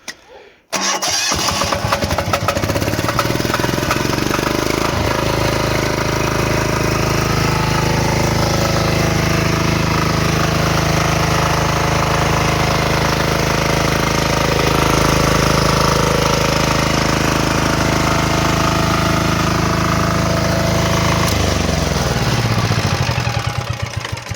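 A Zipper ZI-STE6700DH diesel generator starts with a sharp crank and settles into a loud, steady, rumbling drone that runs continuously before shifting pitch near the end.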